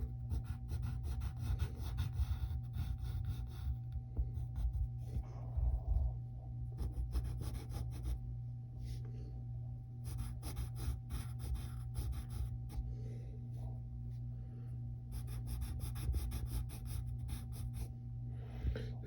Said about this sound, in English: And then we're going to draw this sleeve.